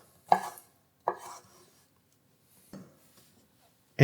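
Pitted dates roughly chopped with a knife on a board: three distinct chopping thuds spaced about a second apart, near and clear, followed by a sharp knock at the end, in an otherwise quiet kitchen.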